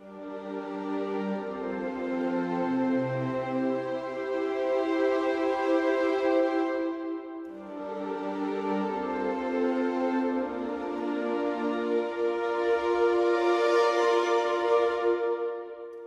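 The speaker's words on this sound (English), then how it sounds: "So we have a Tundra patch here, which is a string patch from Spitfire Albion Tundra." Spitfire Albion Tundra string patch playing soft, sustained orchestral chords in two long swelling phrases, each rising and fading, with a brief gap between them and no voices.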